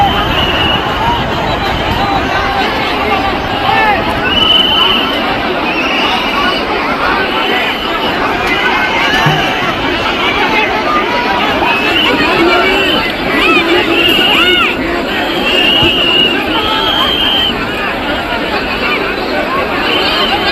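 A huge crowd of pilgrims at the Maha Kumbh gathering, a dense, steady roar of many voices and milling people that goes on without a break, loud and close throughout.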